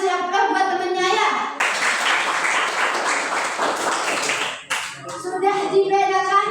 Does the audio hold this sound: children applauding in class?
yes